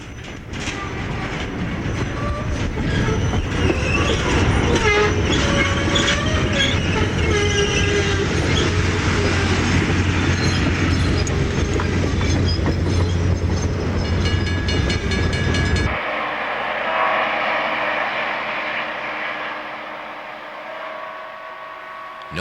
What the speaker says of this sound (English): a special clearance test train ran over the reborn railroad